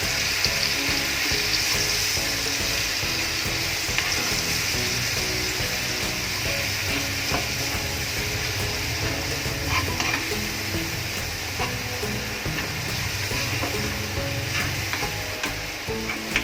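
Green chilies sizzle and fry steadily in hot oil while being stirred for a peanut and niger seed chutney, a loud continuous crackle with scraping through the whole stretch and no talking.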